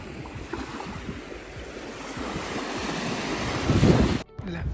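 Surf washing onto a sunny sandy Mediterranean beach, a steady broadband rush of breaking waves with wind buffeting the microphone, swelling louder toward the end before cutting out abruptly.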